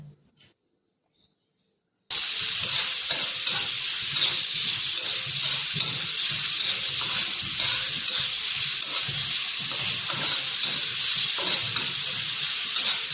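Onion frying in a pan for zunka, a brief quiet pause then a loud, steady sizzle with stirring scrapes that carries on without a break.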